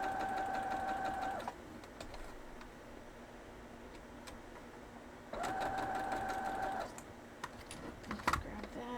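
A sewing machine runs in two steady bursts, stitching quilt block pieces for a Grandma's Purse block, with a quiet pause between runs and soft handling clicks near the end; the motor hum is close and even.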